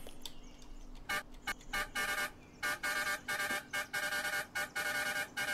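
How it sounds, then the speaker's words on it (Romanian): A car horn in a driving video game honks in a series of short, evenly repeated blasts with brief gaps between them, loud and close over a quiet engine hum. "ăsta e claxonul"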